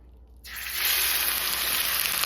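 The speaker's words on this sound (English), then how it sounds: "I'm going to take this roast and I'm going to set it in this bacon grease." A pork shoulder roast hits hot bacon grease in a pan, a sudden loud sizzle bursting in after a short quiet moment and holding steady and close to the end.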